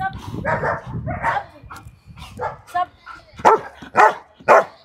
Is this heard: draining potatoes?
no